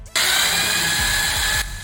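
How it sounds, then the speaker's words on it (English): A power drill bores holes into a door while fitting a digital smart lock, its motor whining at a steady, loud pitch for about a second and a half before cutting off, with no talking. "Start drilling the holes one by one as per the markings."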